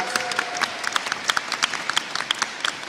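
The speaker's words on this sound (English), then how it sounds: "Can we give her another round of applause?" An audience at a governor's bill announcement applauds, with close, crisp individual claps popping out of a full, lively round that carries on steadily for a few seconds.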